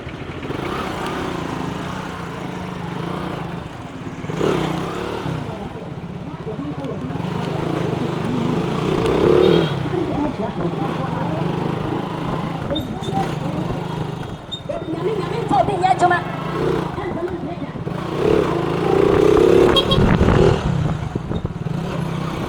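A motorbike riding through traffic near a fishing harbour, a steady engine drone with rises and dips in loudness, plus clatter and road noise from passing vehicles.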